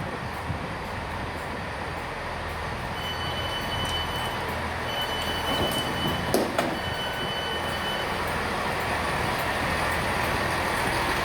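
A Great Western Railway commuter train between Didcot Parkway and Oxford rumbles steadily along the rails, with faint wheel squeal and brief high metallic tones over a constant broadband roar.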